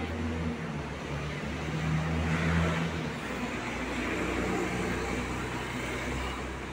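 A bus pulls up at a stop with a low engine rumble and steady road noise that swells and then settles, heard at moderate distance without talk.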